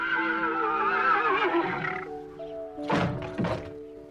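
A cartoon horse whinnies in an animated series, then two loud, brief bursts follow close by, with a low rumbling hum running underneath.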